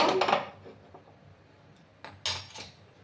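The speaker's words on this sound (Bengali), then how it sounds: "একটা প্যান আমি এখন বসিয়ে দেব।" Metal pan set down on a gas stove burner in a home kitchen while making paneer butter masala: two sharp clanks, one at the start and another near the end, with quiet between them.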